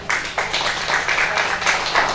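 Moderate applause from a seated audience at an Indonesian coffee-talk discussion on hoaxes, many hands clapping in a steady, slightly uneven patter at medium distance, with no speech over it.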